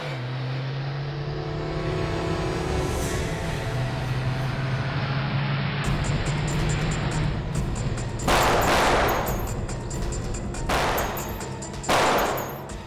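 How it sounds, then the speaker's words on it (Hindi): Gunfire in a TV crime drama scene: a burst of loud, sharp gunshots cracks out near the end, over a steady car-engine hum and background score. "गोलियों की आवाज, लगता है मेरे साथ ही आ गए"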